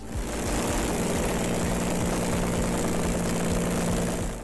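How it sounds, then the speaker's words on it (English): A motorcycle fitted with a 300-horsepower Rolls-Royce Continental V6 engine from a 1960s aircraft roars in a steady, dense, unbroken drone, loud and close. "that engine is a 300 horsepower Rolls-Royce Continental V6, which was once part of a 1960s aircraft"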